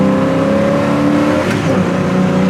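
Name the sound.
1966 Chevelle SS accelerating, tires squealing into second gear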